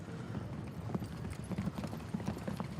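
Faint, steady clip-clop of long-legged horses' hooves trotting on ground during a cones carriage driving competition at the FEI Driving European Championship, with a soft continuous ambient bed.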